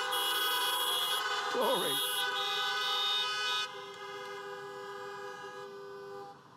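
Car horns toot at a drive-in church service, a short steady honk running through the clip alongside other sustained horn tones, with a voice speaking briefly over them.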